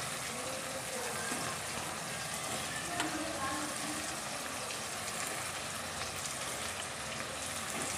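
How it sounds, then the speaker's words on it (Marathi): Stuffed brinjals fry in hot oil in a pan for a spicy curry, giving a steady, fairly quiet sizzle and crackle that runs continuously with no voice on top. "आता वांगे पण असे तेलावर छान एकदा परतून घ्यायचे।"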